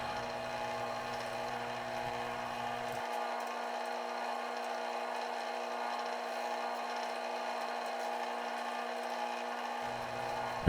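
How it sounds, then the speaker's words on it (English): Lathe turning a resin and wood-shaving dome for a tea light holder while it is wet sanded with micro mesh, a steady, even motor whine and soft friction hiss running unbroken throughout. "wet sanding with micro mesh"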